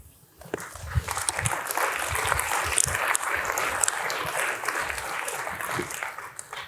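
A conference keynote audience at Laracon 2025 bursts into sustained applause, a steady wash of clapping from a large crowd that holds for several seconds.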